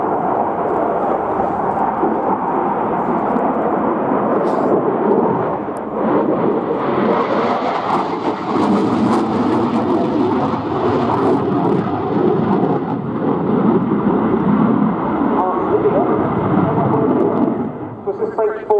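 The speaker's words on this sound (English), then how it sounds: "The aircraft basically describing a square in the sky with a roll at each" A French Air Force Dassault Rafale C jet performing an air display at RIAT 2016, a loud, continuous roaring jet rumble that swells and fades as it passes, with a commentator talking over it.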